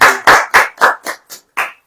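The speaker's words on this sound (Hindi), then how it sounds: "ताली नहीं बजाओगे?" A congregation at a Hindi church service claps in seven sharp, evenly spaced bursts, loud and close, with a brief gap before the last clap.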